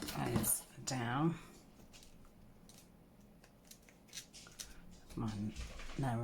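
Paper is snipped with scissors in short, crisp cuts, with a person talking briefly at the start and again near the end.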